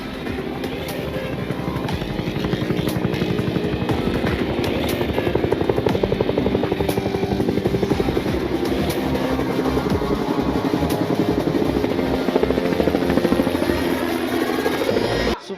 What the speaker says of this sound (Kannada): ಆಕ್ಚುಲಿ ಈ ದರಿದ್ರ ಹೆಲಿಕಾಪ್ಟರ್ ನೋಡಿ ನನಗೆ ಸಿಡ್ಲು ಹೊಡಿಲಿಲ್ಲ.